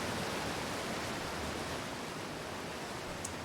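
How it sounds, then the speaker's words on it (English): A loud indoor waterfall gives a steady, broadband rush of falling water that fills the whole stretch evenly, with no voices over it. "Our waterfall's so loud."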